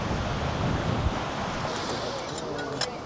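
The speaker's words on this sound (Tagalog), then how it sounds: "Ang lakas ng hangin." Strong wind roars and buffets the microphone in a constant broadband rush with no pauses, in New Zealand.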